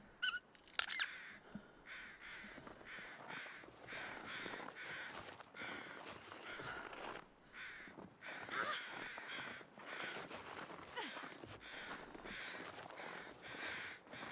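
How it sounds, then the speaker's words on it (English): Crows caw repeatedly in the video game The Long Dark, harsh calls coming in quick bursts and overlapping through the whole stretch at a moderate distance, with no talk over them. "Wish there was a way to silence the birds."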